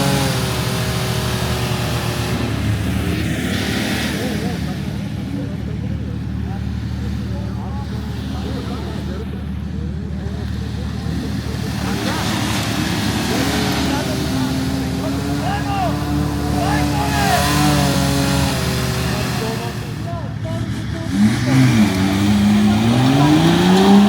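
An off-road UTV engine revs hard at full throttle, with a loud, sustained roar that rises and falls in pitch as it pulls, close up, while people talk and shout over it.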